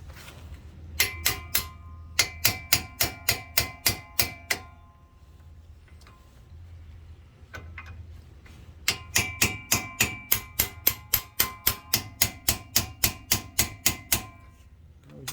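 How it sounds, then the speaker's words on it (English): Metal hammer repeatedly striking an upper ball joint on a 2004 AWD Chevy Astro, sharp ringing blows in two quick rhythmic bursts of about a dozen hits each, close and clear with a pause between, no talking. "Need a bigger hammer"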